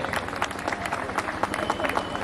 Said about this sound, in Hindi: मेरे हिस्से की कुछ तालियां बची हो तो जरा बजा दो